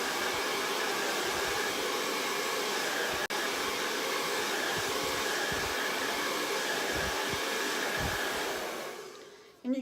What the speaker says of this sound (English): let's hit this with a dryer.